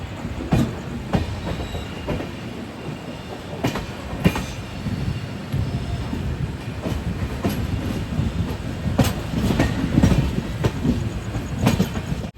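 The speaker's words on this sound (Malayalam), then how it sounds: "ഛത്രപതി സംഭാജി നഗറിൽ നിന്നും 375 കിലോമീറ്റർ യാത്ര ചെയ്ത് ട്രെയിൻ എത്തിയത് ഛത്രപതി ശിവാജി മഹാരാജ് ടെർമിനസ് റെയിൽവേ സ്റ്റേഷനിലേക്ക് എത്തുകയാണ്." Jan Shatabdi Express rolling into Chhatrapati Shivaji Maharaj Terminus in Mumbai, heard from inside with a continuous heavy rumble, rhythmic clickety-clack over rail joints and occasional sharp clanks and wheel squeals.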